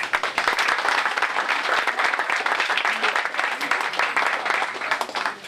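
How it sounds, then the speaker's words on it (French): Audience at a general assembly applauding steadily for several seconds, a dense sustained patter of many hands clapping with a few voices mixed in. "Je pense qu'on peut les applaudir."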